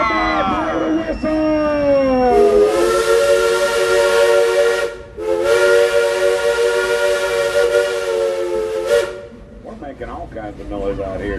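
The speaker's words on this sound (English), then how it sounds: "It's a bad part of the whistle." A Frisco Silver Dollar Line steam locomotive whistle sounds two long, loud, steady chime blasts with a brief gap between them, over crowd noise and voices.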